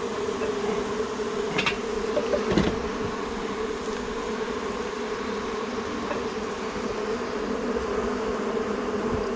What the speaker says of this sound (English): I am getting quite a few bees crawling on my hands